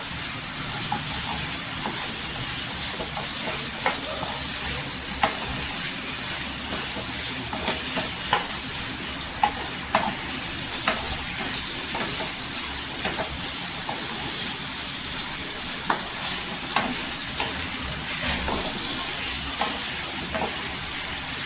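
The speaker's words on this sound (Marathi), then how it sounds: "पूर्णपणे तेलावर परतून घ्यायची बटाटी" Potatoes sizzle steadily in hot oil, with a constant hiss and occasional scraping clicks of stirring, close and even throughout.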